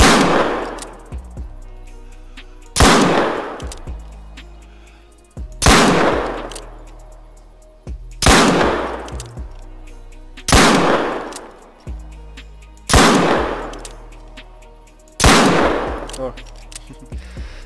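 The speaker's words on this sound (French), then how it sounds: "Et là, je tire sur la cible numéro 7." Revolver shots fired at a target in the hunting game theHunter: Call of the Wild: seven loud, sharp reports spaced about two to three seconds apart, each with a decaying echo tail.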